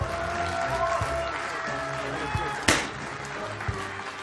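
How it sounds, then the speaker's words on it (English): Audience applause at an official Clash Royale tournament as a Supercell guest is called onstage, a dense wash of clapping under hall noise with one loud thump partway through. "Ladies and gentlemen, a round of applause,"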